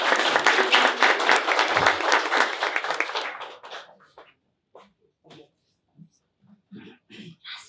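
An audience at a startup showcase summit bursts into dense, loud applause that rolls steadily for about three seconds, then thins and fades out, leaving a few scattered voices and small sounds.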